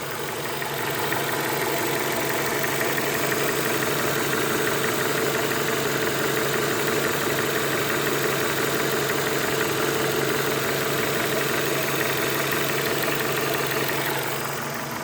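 A Renault Megane 2 engine idles while still slightly cold, giving a steady, continuous mechanical drone with a faint rapid knock running through it, close and even for the whole stretch with no talking.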